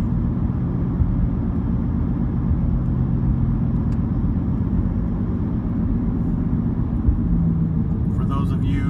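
Car on a Sunday drive moving into a residential neighborhood, heard as a steady close interior road rumble and engine drone throughout, with someone talking over it.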